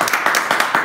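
Brief burst of clapping and applause from a small studio audience on a Spanish-language music podcast, several quick hand claps close by with no voices over it.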